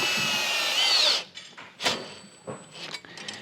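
A power drill tightens bolts on a XERO Pure MAX Plus water filter assembly, a loud close high whir for about a second, followed by several short clicks, knocks and handling sounds.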